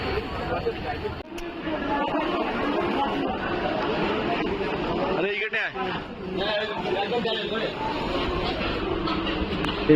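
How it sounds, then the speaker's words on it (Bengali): A busy local train rumbles steadily as it pulls away, with chattering passengers and crowd noise filling the carriage. "ফাইনালি আমাদের ট্রেন ছেড়ে দিয়েছে বনগা থেকে"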